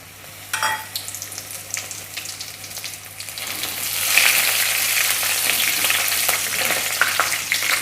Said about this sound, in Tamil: கடாய் வச்சிட்டோம். கடலெண்ணெய் ஊற்றிக்கலாம். வரமிளகு போட்டுக்கலாம்.